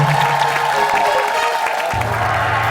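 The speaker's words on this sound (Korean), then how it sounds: "다시 한 번 더 큰 박수가 필요합니다" A burst of television studio audience applause, clapping filling the space with some cheering mixed in, fairly close and continuous.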